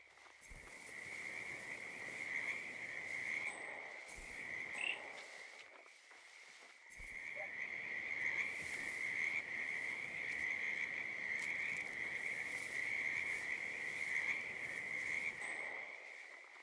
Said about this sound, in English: we got the frog.